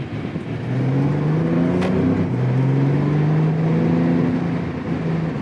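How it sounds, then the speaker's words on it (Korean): A 2018 Porsche 911 Carrera (991) with PDK in Sport Plus mode revs its engine with automatic rev matching on downshifts, a loud, close drone rising and falling in pitch through several sweeps, with no talk. "감속을 할 때 바로 다시 가속할 수 있게 한 3000 이상 RPM을 높여줘요 레브 매칭으로"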